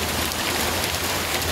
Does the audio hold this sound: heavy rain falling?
yes